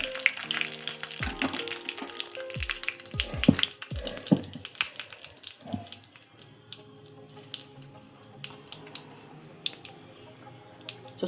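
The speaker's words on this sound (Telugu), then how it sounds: "చిటపటమంటుంది కదా, ఇప్పుడు కరివేపాకు వేసి ఇంకా ఇవి పచ్చడిలో పోసేసుకుందాం." Dried red chillies and curry leaves sizzle in hot oil as a tempering for chutney, a steady crackle and spatter with clattering pan and utensil knocks close by, busiest in the first few seconds.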